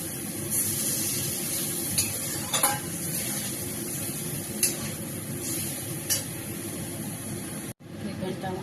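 Water added to spices frying in a pan, a steady loud hiss and sizzle with occasional scraping stirs, cut off abruptly near the end.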